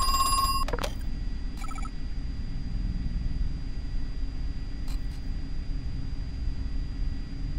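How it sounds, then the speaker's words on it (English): A telephone rings in the horror video game Crow Country, a short electronic bell burst near the start, then fainter repeated chirps against a steady low ambient hum with no talk. "Get on to the damn phone."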